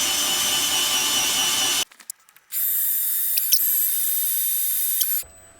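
A crude homemade power feed drives a milling machine table with a steady high whine, breaking off briefly for a few faint clicks before the motor starts again and runs on, then cuts out.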